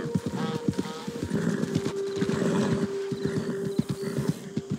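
Horse hooves clip-clop steadily in Red Dead Redemption 2 as the tired mount walks on toward a bridge, with whinnying and a talking voice mixed into the rhythmic beat.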